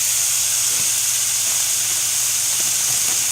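Spinach and chopped vegetables sizzle in a frying pan, a continuous bright hiss with faint clicks and pops, steady and close.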